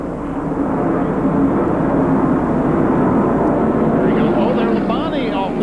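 NASCAR Busch Series race cars roar around the Atlanta track during the 1995 Busch Light 300, a loud, continuous engine drone that swells as cars pass.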